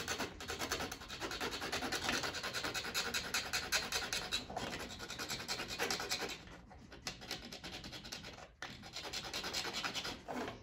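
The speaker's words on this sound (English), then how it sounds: "And I will need to file this seam smooth." A metal file rasps back and forth across a model railroad rail seam in continuous close scraping strokes, with a couple of brief pauses.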